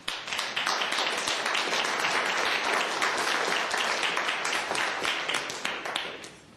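An audience at a county commissioners court meeting applauding the introduction of a new CIO, a crowd clapping steadily and evenly throughout, tapering off toward the end.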